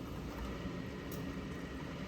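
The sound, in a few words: dishwasher spray arms spraying water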